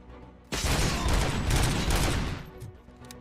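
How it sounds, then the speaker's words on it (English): Sustained burst of gunfire erupts in a RoboCop video game, loud dense shots and booms rolling for about two seconds before tapering off, with no talk over it. "How many more times do I have to fucking shoot these assholes?"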